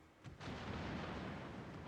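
Naval gunfire salvos in World of Warships: a brief quiet lull, then a heavy booming blast that swells into a sustained, dense roar of concentrated fire.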